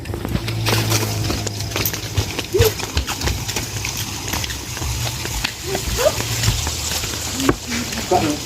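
About five horses in a neighbour's stable shift and stamp, with hooves clopping on the ground and occasional snorts and whinnies, while people talk nearby.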